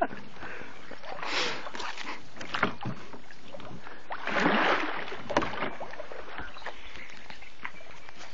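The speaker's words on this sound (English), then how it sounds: "We're fucking paddling into the sunset." A canoe is paddled on a bayou. Soft water swishes and paddle strokes sound close by, with light wind noise and a few faint voices in the background.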